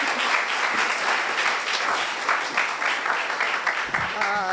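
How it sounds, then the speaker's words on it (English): Audience applause at a university Faculty of Arts internship annual event, a dense, loud, sustained clapping from a crowd that thins slightly as a voice begins at the very end. "A big round of applause."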